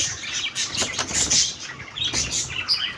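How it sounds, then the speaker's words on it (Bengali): Black cockatiels in a cage flap their wings in quick bursts as they rush to eat rice mixed with medicine, with some chirps among the close, fluttering rustles. "দেখুন কেমন পাখিগুলো খাওয়ার জন্য ছুটে আসছে"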